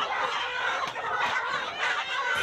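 Broiler and Sonali chickens clucking steadily as a dense, close flock, the chatter continuous and fairly loud throughout with no pauses.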